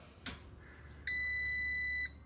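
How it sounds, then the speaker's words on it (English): A ComfortBilt HP41 Alpine pellet stove control panel gives one steady electronic beep lasting about a second, clear and close, after a soft click, with a faint background hum. "once it's hit on, this thing beeps, comes to life"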